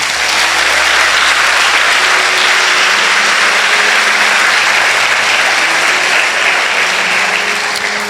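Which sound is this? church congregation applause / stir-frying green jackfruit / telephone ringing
church congregation applause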